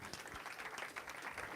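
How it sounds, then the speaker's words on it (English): Wedding guests clapping at a ceremony, a brief spell of light, fairly faint applause with scattered individual claps. "Friends, ladies and gentlemen, a round of applause."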